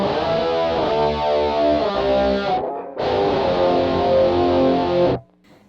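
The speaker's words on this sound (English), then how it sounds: "Okay, so the bass Sustainor tone sounds like this." Distorted electric guitar through a Rockman Sustainor on its bass tone setting plays thick sustained notes, loud and close, with a brief gap near the middle and a sudden cutoff at the end.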